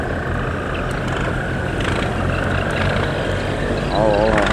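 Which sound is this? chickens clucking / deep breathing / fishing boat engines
fishing boat engines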